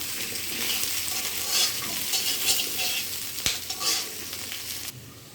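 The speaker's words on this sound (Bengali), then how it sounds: "আলুটা ভালো করে ভাজতে হবে" Potatoes frying in oil in a pan for a vegetarian chhana curry, with a constant sizzle broken by repeated scraping strokes of a spoon as they are stirred.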